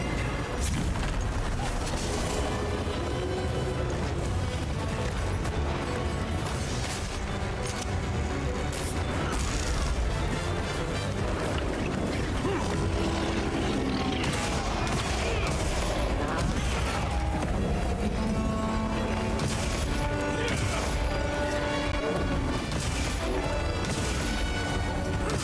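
Bombs set among barrels in a video game, with a dense barrage of blasts, crashes and bursts over a continuous loud mix. The clashes come one after another across the whole stretch, up close.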